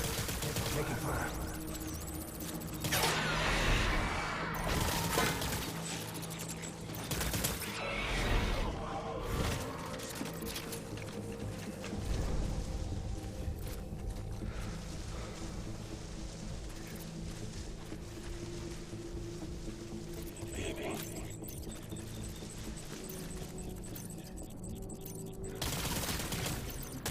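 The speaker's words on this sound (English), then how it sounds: "Taking fire." Gunfire in the video game Death Stranding, bursts of shots and heavy impacts mixed into a dense, busy game soundscape, with voices speaking at times.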